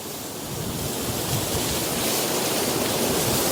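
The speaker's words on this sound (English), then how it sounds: "Some of the waves are pretty big today, obviously with the after effects of the storm." Big ocean waves break at the shore at Kimmeridge in the aftermath of a storm, a loud, dense roar of surf that swells slightly and never lets up, with no voices.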